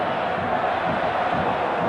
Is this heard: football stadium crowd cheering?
yes